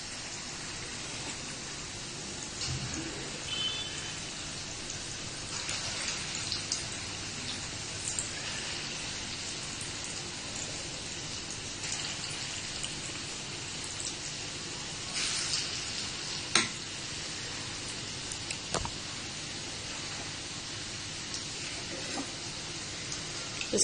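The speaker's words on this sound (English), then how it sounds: "now I will deep fry this in hot oil" Moong dal pakoda balls deep frying in hot oil over a medium flame, a steady, faint, hissing crackle that continues evenly for a long stretch, with a few sharper pops and no voices.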